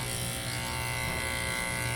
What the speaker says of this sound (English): I'm just gonna give her a quick shave over here